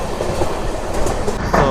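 Amrit Bharat Express rolling along the rail line toward Khammam, with a steady rumbling clatter of wheels over track joints throughout and a brief brighter squeal near the end.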